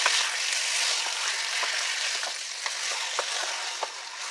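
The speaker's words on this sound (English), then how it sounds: "And you throw your pumpkin in. So I'm just going to stir it around a little bit." Pumpkin fries in about two tablespoons of hot oil in a pan, a soft continuous sizzle with light, regularly spaced scraping taps as it is stirred around.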